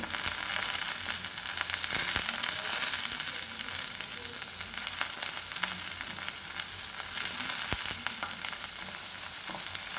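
Moong dal soaked for half an hour frying in oil with onion and mustard seeds in a wok, a continuous close sizzle broken by sharp stirring scrapes and clicks.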